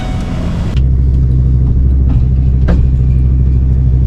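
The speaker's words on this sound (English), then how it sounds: "I've got the Explorer warming up. I'm just going to leave it running while I'm gone." A Ford Explorer engine starts and then settles into a steady, loud idle as it warms up, with a low, even rumble throughout and no talk.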